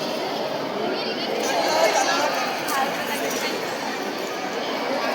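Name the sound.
crowd chatter at a trade fair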